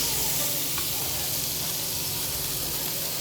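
A smash burger patty fries in a hot pan with a loud, steady, broadband sizzle and hiss that carries unbroken throughout.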